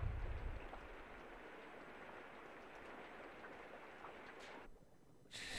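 Steady rain falling over a dark swamp in the video game Limbo, a soft continuous hiss of drops that fades out near the end before a brief high burst of noise.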